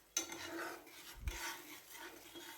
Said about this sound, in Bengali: এখন মশলাটা ভালোভাবে কষিয়ে নেব লো ফ্লেমে।